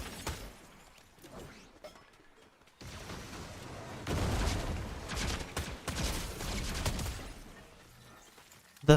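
Rapid automatic weapon fire from the video game Fortnite crackles in dense bursts, swelling loud in the middle and trailing into scattered shots, with a sharp hit at the very end.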